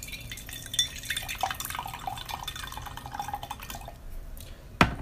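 Qizhong tea poured straight from a thermos into a glass: a soft, close liquid trickle and dripping, ending with a sharp clink of glass near the end.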